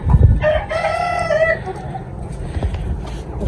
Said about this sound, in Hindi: ये मुर्गी हैं।